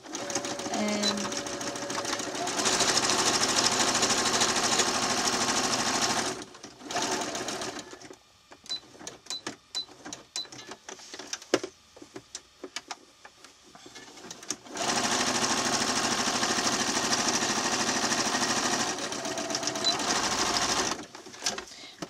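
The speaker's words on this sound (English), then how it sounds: "I'm using a small zigzag stitch because it's a bit stronger" Sewing machine running a small zigzag stitch through fabric, a steady close whir in two long stretches separated by a few seconds of quieter handling clicks and rustle, with a faint voice at times.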